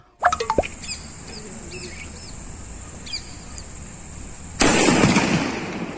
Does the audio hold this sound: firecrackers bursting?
yes